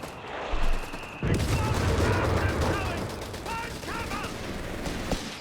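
Light machine guns chatter in Company of Heroes 3 during a British forces battle, with continuous rattling bursts and distant booms. A commentator talks over the fire.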